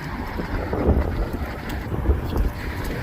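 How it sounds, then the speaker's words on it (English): Gusty wind blowing outdoors near a boulevard, buffeting the microphone with a steady low rumble and occasional stronger gusts, loud and close, with no talking. "Y'all forgive me for this wind."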